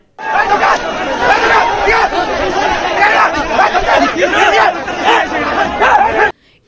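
A crowd of rival party faction members in Eluru district's G. Kothapalli village chasing an MLA, a loud agitated babble of many voices shouting together, continuous and close, ending abruptly.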